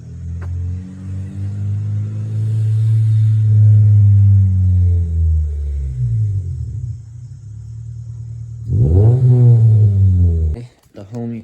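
A car pulls up with a deep engine rumble that swells and fades, then a short rev near the end before it cuts off; a voice speaks over it.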